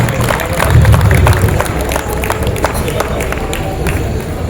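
Loud, dense applause from a gathered audience at a Kayastha community evening event in Udaipur, welcoming guests with sustained clapping and crowd noise, close and energetic throughout.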